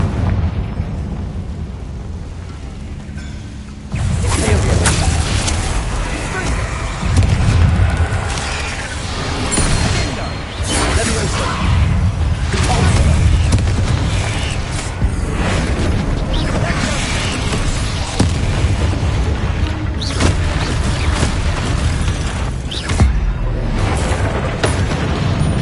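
Fiery spell blasts from Hogwarts Legacy, heavy booming explosions and crackling bursts rolling over one another with rumbling debris, loud and continuous, with a voice and game noise mixed underneath.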